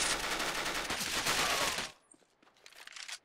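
Gunfire and explosions in CS:GO ring out as a dense, continuous volley of close shots, then a few scattered fainter cracks follow.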